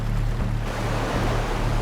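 Fast river current rushing around a raft in shallow water, a steady loud low roar of churning water and wind buffeting close to the microphone, with no talking.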